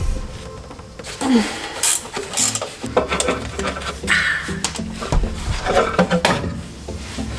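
Wrench and metal clanks under an Early Bronco while the bottom starter bolt is backed out, scattered knocks, scrapes and clinks at close range in a shop, with some short rustling movement between them.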